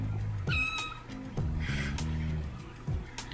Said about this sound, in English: Ah, such a cute kitty.